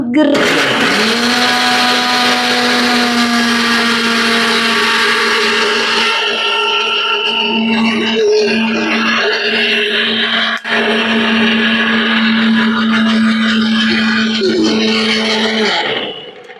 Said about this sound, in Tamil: பூண்டு, பெப்பர், சால்ட், மில்க், அப்புறம் வினிகர் இதெல்லாம் சேர்த்து நம்ம பிளெண்ட் பண்ணோன்னா பிளெண்ட் பண்ணிக்கலாம்